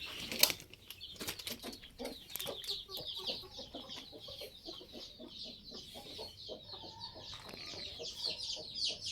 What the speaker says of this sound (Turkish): Işığı kapatınca da civcivler bağırmaya başlıyor.